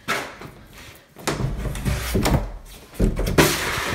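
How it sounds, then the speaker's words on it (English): A back door opening onto a screened patio: a wooden thump and creak, then a couple of knocks and rattles as it swings and bumps, close and fairly loud with no talking. "Let me go out this back door real quick."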